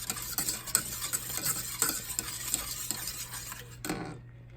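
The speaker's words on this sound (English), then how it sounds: "Keep stirring it at this point so it doesn't burn." Frog eye salad mixture, thickening in a pot on the stove, is stirred with a utensil that scrapes and clinks repeatedly against the pot in an uneven rhythm, close and steady, with a low hum beneath until it stops near the end.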